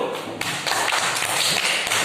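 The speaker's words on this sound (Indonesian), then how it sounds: "kita berikan tepuk tangan dulu" An audience claps in a classroom session, a dense burst of clapping that continues steadily for about two seconds.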